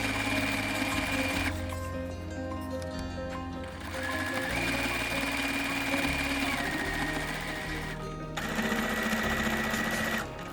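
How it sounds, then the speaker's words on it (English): A sewing machine hums and chatters in fast, steady runs while stitching along the edges of a fabric table mat, pausing briefly twice before starting again, close and clear. "Now sew along the edges on all sides."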